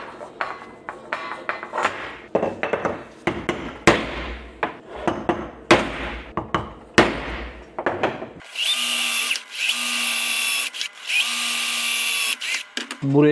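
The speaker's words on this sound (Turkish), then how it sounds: "Bunun üstüne son olarak 2 delik daha delmem gerekiyor. Hemen onları da bir delelim." A power drill bores holes in a metal sheet, several sharp bursts of knocking and handling followed by a loud, sustained high whine of the bit cutting through the steel, with brief pauses between holes.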